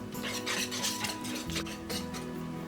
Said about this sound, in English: with a whisk, I'm just going to combine the two until they're smooth